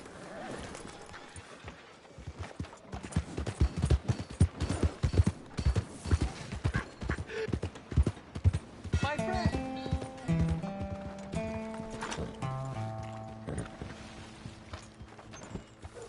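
Hooves clop rapidly in a galloping rhythm in the video game Red Dead Redemption 2, then give way to a short musical melody with chime-like notes.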